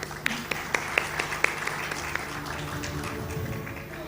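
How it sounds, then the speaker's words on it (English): An audience at an awards ceremony applauds with scattered, distinct claps early on that thin into a softer, sparse patter, moderately distant and not very loud. "It's a long list, but they're all worth our applause."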